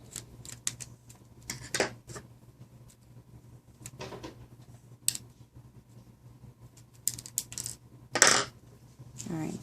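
Tiny screws drop out during a Samsung screen disassembly, giving scattered light metallic clicks and tinkles onto a hard surface over a faint background hum.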